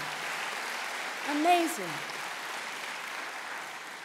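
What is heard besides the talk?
audience applause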